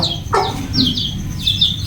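A chicken clucks and calls several times in quick bursts, close by and fairly loud, over a low background rumble.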